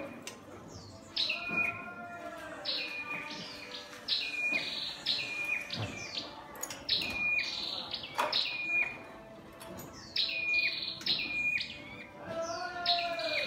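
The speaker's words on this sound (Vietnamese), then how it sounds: "Chim khỏe mạnh đấu hót đàng hoàng nha các bạn." A healthy caged Vietnamese songbird, likely a magpie-robin, white-rumped shama or red-whiskered bulbul, sings close by in repeated bright, whistled phrases with sharp chirps, over a steady background of insect and cricket buzz.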